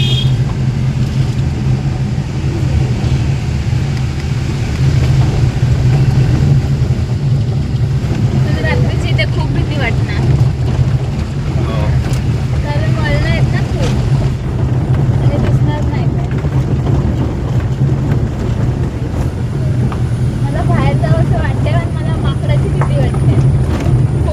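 A vehicle climbing a winding Konkan ghat road near Shiroda, its steady engine drone and wind rumble constant and loud throughout, with people talking over it.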